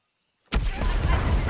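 Silence breaks into a sudden loud blast at about half a second, a video game grenade explosion, followed by sustained rumbling, crackling debris noise that stays heavy to the end.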